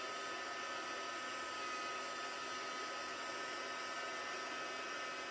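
A handheld heat tool for card making blows a steady, even whir of hot air that stays constant and close throughout, with no voices.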